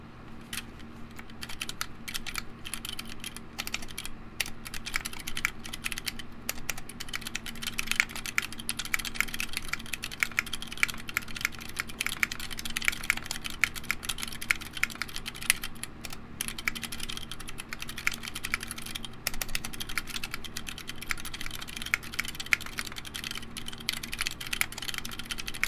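Mechanical keyboard with GMK keycaps and mostly unlubed switches, a continuous stream of clacky keystrokes, fast and irregular, close and moderately quiet, with no talking.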